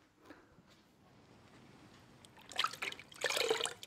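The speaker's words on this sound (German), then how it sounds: "Wenn die Zarge die Heizplatte überall berührt, feuchtet Matthias sie nochmal an" Water trickling and dripping onto a harpsichord's wooden side panel as it is moistened on a hot bending plate, quiet at first, then louder splashy wet bursts in the final second and a half.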